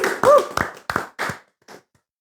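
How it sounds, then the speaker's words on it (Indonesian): A small group claps briefly for an invited ride-hailing motorbike driver in a casual studio chat, a few quick bursts of hand claps that trail off into quiet. "Aplaus dulu buat Ojol."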